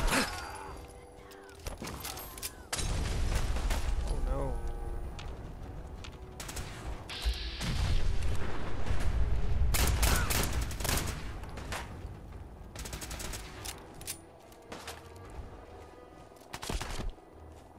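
Gunfire in Fallout 4 combat, with repeated loud bursts of shots and heavy impacts over several seconds amid a busy game mix, a voice talking now and then.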